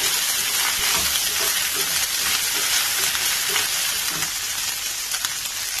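Ginger paste sizzles steadily in a hot pan while chicken pepper fry is being cooked, a close, continuous bright crackle with faint stirring bumps and no talking.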